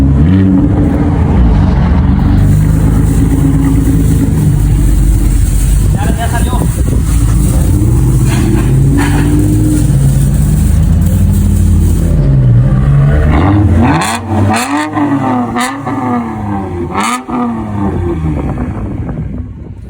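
A 2019 Toyota Avalon with a straight-piped exhaust idles loudly and then revs several times in sharp rising and falling bursts near the end, with wind noise on the microphone.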